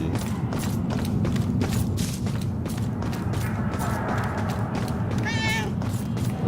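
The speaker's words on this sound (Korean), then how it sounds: "어 고양이?" A cat meows once, briefly and fairly clearly, in the video game Murdered: Soul Suspect, over a steady low rumbling background with faint clicking sounds.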